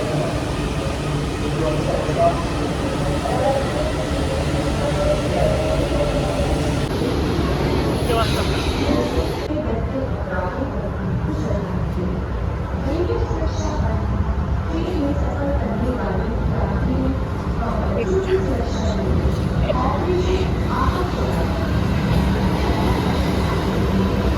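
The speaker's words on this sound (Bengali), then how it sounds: "আমরা এসে মেট্রোটা মিস করে গেলাম এখনই ছাড়বে" A metro train rumbles and hums on a busy platform, its steady drone continuing as it pulls away, with crowd chatter and voices over it.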